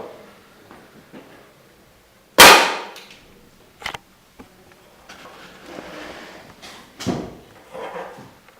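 An electromagnetic coil gun fired from a charged capacitor bank gives a sharp, loud snap-crack once, followed by scattered clicks and a second crack later, against a quiet room background.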